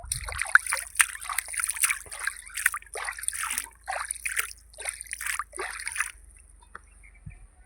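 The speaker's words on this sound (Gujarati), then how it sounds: "ટાઢું બોળ પાણી આવે છે, મસ્ત મજાનું સરસ એવું" Cold running water at a farm splashes and gushes in uneven surges for about six seconds, then falls away to near silence.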